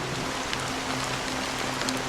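Steady rain pours in Honkai: Star Rail's Penacony, a constant close hiss with scattered louder drops and a faint low hum beneath, with no one speaking.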